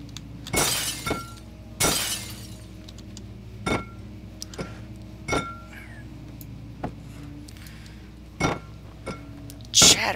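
Glass shatters in the dark castle archives of the horror game Amnesia, a series of sharp crashes and breaking hits spaced irregularly over a low ambient hum.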